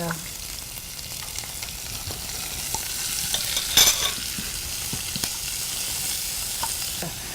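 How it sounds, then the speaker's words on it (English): One chopped onion fries in a pan with a soft, continuous sizzle and occasional stirring scrapes, one of them sharper near the middle. "Let's go ahead and add the onions. So this is a chopped onion."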